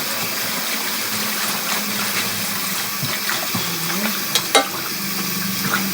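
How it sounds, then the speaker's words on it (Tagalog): Liquid simmers in a cooking pan with a constant busy hiss and bubbling, punctuated by a few soft clinks and stirring sounds, no speech. "Kumukulo na siya dyan."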